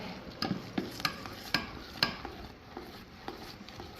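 Rice flour being stirred into jaggery syrup for ariselu: a quiet, rhythmic series of scraping strokes and soft knocks against the vessel, repeating about every half second.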